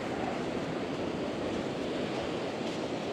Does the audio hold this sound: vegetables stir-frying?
no